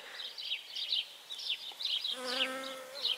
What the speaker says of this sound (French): Petite abeille, regardez, elle est heureuse